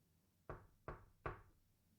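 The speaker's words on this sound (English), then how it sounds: "Luke knocked on the door." Three sharp, evenly spaced knocks on a wooden door of a small cabin, close and distinct, each a dull thud with a short decay, with quiet background between them.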